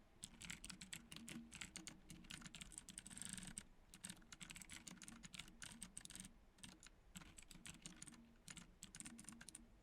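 Rapid typing on a computer keyboard, continuous quiet clicking keystrokes in uneven bursts with brief pauses, close and alone without speech.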